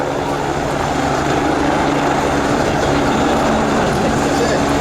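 An Italian fire brigade helicopter hovering during a rescue demonstration at the Jesolo Air Show 2019, producing a loud, continuous, steady roar of rotor and engine noise that fills the whole clip.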